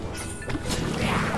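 Enemies exploding in the video game Afterimage, a loud, dense crash of noisy bursts filling the whole short moment without pause.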